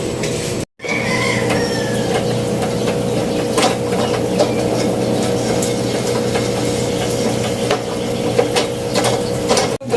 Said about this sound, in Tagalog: I am doing again the pedal pumping with the sewing machine of my father